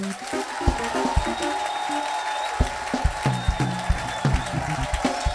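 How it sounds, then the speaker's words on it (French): A church congregation claps and cheers during a worship service, sharp individual claps standing out over a continuous roar of voices and clapping, sustained across several seconds. "donne-moi une acclamation de 5 secondes"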